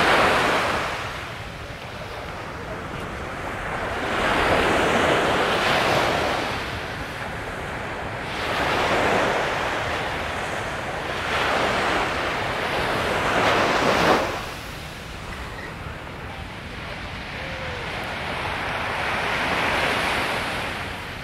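Sea waves rolling onto the beach at Nha Trang, Vietnam, a continuous roar of surf swelling and receding in slow surges every few seconds, with wind buffeting the microphone and no voices.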